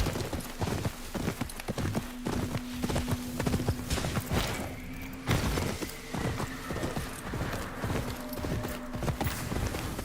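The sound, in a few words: horse hooves galloping in video game Ghost of Yotei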